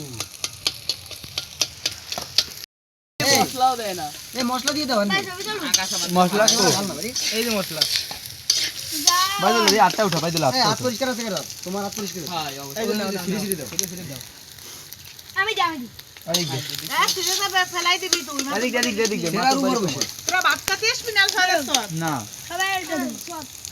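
Egg frying in plenty of oil over an outdoor fire in winter, a steady close crackling sizzle with stirring scrapes, briefly cut off near the start and continuing throughout.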